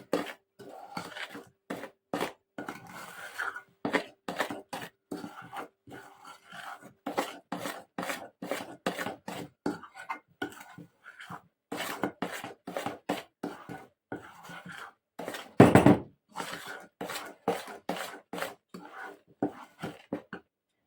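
Repeated scraping strokes of a tablespoon stirring cake batter with cocoa in a bowl, a quick steady rhythm of soft rasps close by, with a sharper knock partway through.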